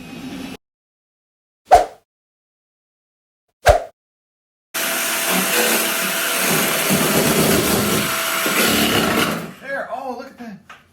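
A power tool cuts a window opening through a van's wall, a loud sustained buzzing cut lasting about five seconds. Brief sharp knocks come before it and voices talk afterward.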